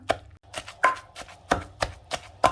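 Rhythmic pestle pounding chili paste with frog in a mortar, about seven firm, evenly spaced thuds in quick succession, close by and with no talking.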